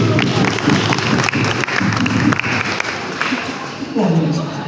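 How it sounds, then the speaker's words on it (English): An audience claps steadily to welcome a guest onto the stage at a live talk event, a dense continuous wash of many hands that thins near the end as a voice comes in. "Big applause."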